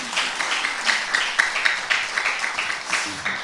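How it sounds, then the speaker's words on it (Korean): Audience clapping at a Korean poetry talk show, a short burst of fairly close, steady applause from a modest crowd lasting a few seconds without talk. "여러분 동의하시면 박수 한번 주십시오."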